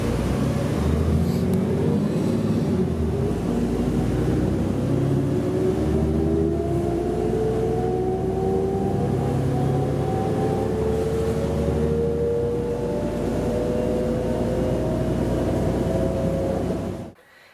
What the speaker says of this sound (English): if you're somehow not familiar with what a D40 LF sounds like, you've missed out on riding some very iconic sounding buses